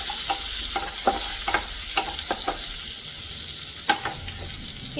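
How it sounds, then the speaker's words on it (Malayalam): Chopped garlic sizzles in two cubes of melted butter in a pan for hot and sour chicken fried rice, a steady close frying hiss punctuated by several sharp stirring scrapes. "ഇനി ഇതിലേക്ക് നമ്മൾ കട്ട് ചെയ്ത് വെച്ചേക്കുന്ന ഗാർലിക്ക് ഇട്ട് കൊടുത്തു."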